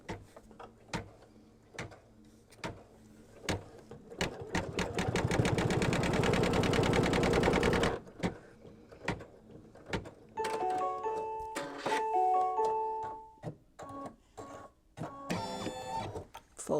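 A sewing machine runs a quilt seam on a small mug rug, a steady fast mechanical hum for several seconds, set between scattered clicks, knocks and handling sounds, with brief whirring snatches later.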